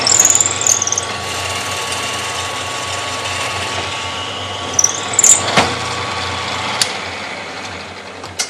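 A loud, steady whine of a drill press running continuously while drilling a wood pen blank, with a few sharp high squeals and clicks as the bit cuts.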